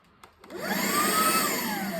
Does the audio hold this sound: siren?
no